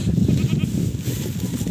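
A farm goat bleats steadily and close by, loud and alone, with no voices over it.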